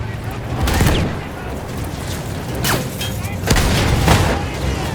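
Battle-scene gunfire in an action war film, rumbling bursts and booming shots rolling over a dense, noisy background, with shouted voices mixed in.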